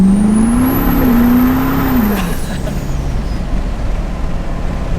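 A 1200 HP triple-turbo Powerstroke diesel truck accelerating hard, loud and close, with a rising engine drone and a high turbo whine that climbs and then drops away as the revs fall, leaving a rough rumble.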